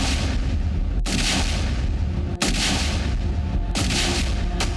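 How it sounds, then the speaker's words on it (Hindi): Repeated powerful blasts boom in succession, about four sharp detonations spaced a second or so apart, each followed by a loud rumbling roar that never fully settles. "ये धमाके की आवाज तो बस आगाज है"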